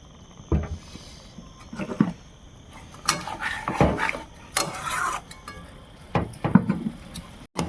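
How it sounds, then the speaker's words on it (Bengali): A spoon stirring cauliflower roast in a pan, with intermittent scrapes, knocks and clinks against the metal at irregular intervals, close and moderately loud, with no talk. "দিয়ে একটু নাড়াচাড়া করে দিই।"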